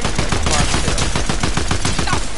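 Fortnite gunfire in a rapid automatic stream of loud, close, evenly spaced shots lasting a couple of seconds without pause.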